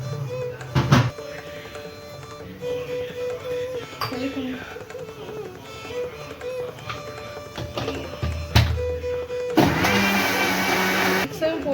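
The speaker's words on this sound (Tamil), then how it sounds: "இப்போ இந்த பவுடரையும் அதிலே போட்டு அரைச்சிடுறேன்" A mixer grinder grinds banana powder, its loud, harsh whirring burst arriving only in the last couple of seconds after a stretch of someone talking over kitchen noise.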